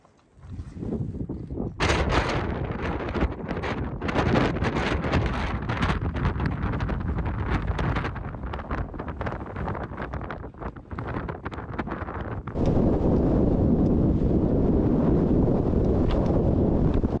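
Strong, blustery wind roars across a high mountain pass in the alpine backcountry, buffeting the microphone in a continuous loud rush that swells even harder near the end, with no voices.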